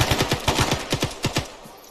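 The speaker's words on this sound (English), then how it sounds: "I'm shooting through smoke like this" Rapid automatic gunfire in a tactical shooter game, bursts of sharp close shots in quick rhythmic clusters that taper off near the end, with no talking over them.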